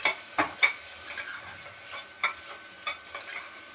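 Spices being stirred and sautéed in a pan for a capsicum and cowpea curry, soft scraping strokes and light sizzling, close and quiet, with no talk.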